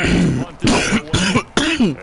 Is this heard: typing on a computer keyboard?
no